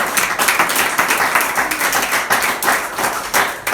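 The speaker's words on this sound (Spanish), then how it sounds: "Vamos a aplaudir." Church congregation clapping together in a steady, loud burst of applause with fairly even rhythm and no talk over it.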